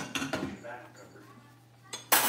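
Dishes and cutlery clatter as they are loaded into a home dishwasher in a kitchen, with a few close clinks and a sharper clatter at the end while someone talks briefly.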